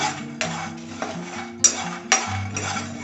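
Metal spoon scraping and clinking in a pan while lentils, peanuts, dried red chillies and coriander seeds dry-roast for a banana flower fry, several distinct scrapes and taps over a steady low background.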